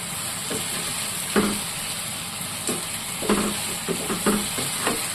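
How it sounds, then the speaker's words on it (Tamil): Tomatoes sauté in a pan for squid curry, a steady close sizzle and hiss with intermittent scraping stirs of a spoon, no voices. "இப்போ தக்காளியை நல்லா வதக்கிக்கலாம்."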